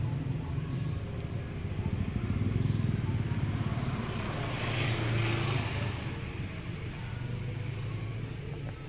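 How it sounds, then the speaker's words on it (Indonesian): A motorcycle left unstarted for two days warming up outside an aluminium warehouse, its engine making a low steady rumble that swells a little and then settles, with wind noise over it. "Oke, kita panasin dulu mesinnya."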